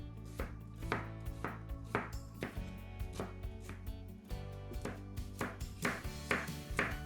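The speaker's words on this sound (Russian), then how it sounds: "Вначале нарезаем все овощи. Я нарезаю лук." A knife chops onions rhythmically on a cutting board, sharp regular strikes in quick succession, close and clear, with no talking.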